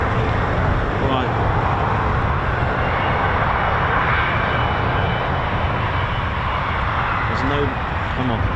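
Red Arrows jet aircraft flying at RAF Waddington during winter training, a loud sustained engine roar with a rising and falling whine as the jets pass, continuous throughout with people faintly talking underneath.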